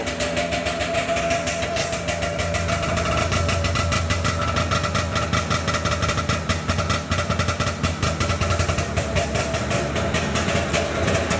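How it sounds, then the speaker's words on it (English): A 340 air-cooled two-stroke snowmobile engine running near the microphone, a loud, fast, ragged putter with rapid firing pulses that holds steady at idle for the whole stretch. "this sled runs really well. It's a 340, air-cooled 2-stroke."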